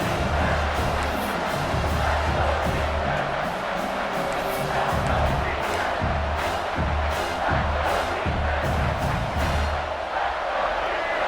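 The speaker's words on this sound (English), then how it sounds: "the crowd coming to life here, trying to help this defense down in the red zone" College football stadium crowd at South Carolina versus Alabama cheers loudly and continuously as the defense holds in the red zone, a thick, surging roar with chant-like pulses and a broadcaster speaking over it.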